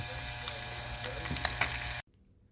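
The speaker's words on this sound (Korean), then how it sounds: "지금은 뭐 프라이팬에 그냥 구지요 맛있게 익어가고 있습니다" Small fish (dongeo) frying in a frying pan, a steady crackling sizzle with a few light clinks, close and continuous until it cuts off abruptly.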